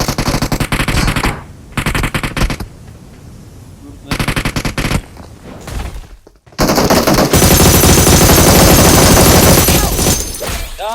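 Rapid automatic gunfire in an online shooter match, loud bursts of machine-gun fire starting and stopping, then a long sustained barrage, with a player's voice briefly underneath.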